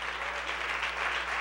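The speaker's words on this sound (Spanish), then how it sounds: "Un aplauso al Señor." A worship gathering applauds the Lord with a steady wash of massed clapping, moderately loud and unbroken for a short stretch, over a low hum.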